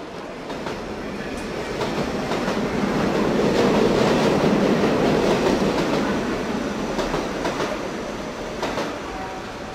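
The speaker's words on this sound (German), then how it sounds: "Man hört den Zug einfahren." Train pulling into a station, a continuous rumbling roll with clattering wheels and rail noise that swells to a loud peak midway and then eases slightly, close by and without talk.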